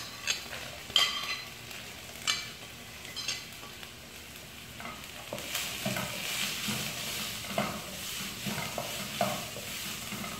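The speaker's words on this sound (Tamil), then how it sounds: "இந்த ஆயில்லே வந்து கேரட் பீன்ஸ் நல்லா குக்க ஆயிடும்" Sliced carrots and beans fry in oil in a pan, a steady sizzle punctuated by sharp utensil knocks and stirring scrapes, close and alone without speech.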